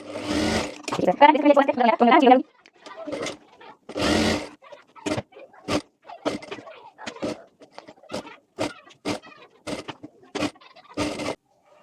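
A sewing machine stitches tucks into folded fabric for an Anarkali kurti, running in short, rapid bursts of needle chatter between stretches of someone talking over the work.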